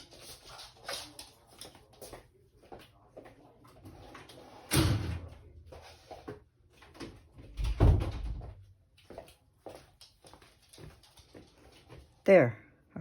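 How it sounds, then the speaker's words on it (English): An indoor door is pushed shut with a couple of dull thuds amid quiet shuffling, while a dog whimpers faintly nearby. "I'm going to close the door"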